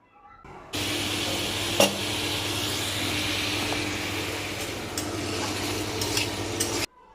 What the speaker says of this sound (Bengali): প্রায় দশ মিনিটের মতো ঢাকা দিয়ে ভাজতে ভাজতে সেদ্ধ করতে হবে আলুগুলোকে